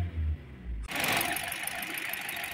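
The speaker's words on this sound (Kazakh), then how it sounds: "Міне машинаны оталдырып қойдық." A Hyundai Accent engine starting up and settling into a steady idle after an ignition coil replacement, running close and fairly loud on its own with an even, continuous hum.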